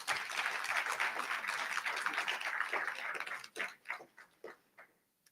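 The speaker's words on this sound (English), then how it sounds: "Let's give them one more round of applause" Audience at a business talk giving a round of applause, a full burst of many hands clapping that thins out into a few scattered final claps before fading to near silence.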